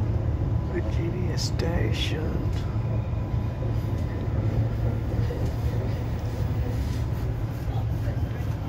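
Steady low rumble inside a moving Redcliffe Peninsula commuter train, a constant roar of wheels and motor with faint, brief noises over it.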